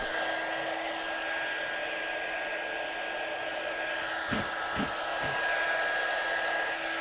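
Heat gun blowing steadily to melt embossing powder in a card-stamping session, a loud continuous broadband whoosh with a faint high whine, a few soft thumps near the end.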